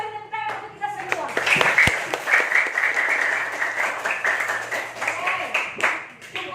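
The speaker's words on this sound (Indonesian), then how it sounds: "Kita beri tepuk tangan untuk kita semua." A classroom group of students claps together after a group answers correctly, a dense burst of hand claps rising quickly, sustained for several seconds and then tapering, with voices mixed in beneath.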